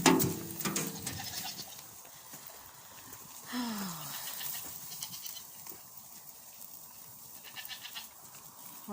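Goats bleat during nighttime farm chores, a few loud calls near the start followed by a longer wavering bleat midway, with quieter animal sounds and movement in between.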